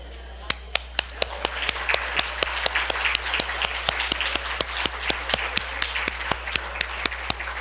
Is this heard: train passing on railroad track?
no